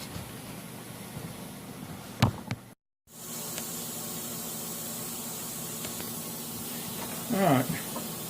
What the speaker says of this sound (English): I'm going to airbrush the dye onto these sheaths.